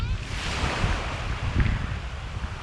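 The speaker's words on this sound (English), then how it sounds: "Look at this beach." Surf breaks on a beach in Lofoten, northern Norway, with a rough, rolling wash that swells and falls under steady wind noise on the microphone. It is fairly loud and close, and no one speaks.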